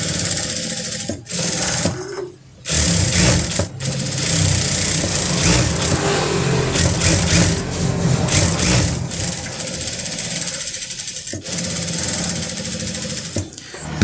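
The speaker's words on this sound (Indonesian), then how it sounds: "Dan selanjutnya kita akan jahit di sekeliling daun kerahnya ini selebar 1 sepatu" An electric sewing machine stitching around the collar of a button-up shirt, running in loud, fast whirring bursts broken by short pauses as the fabric is turned.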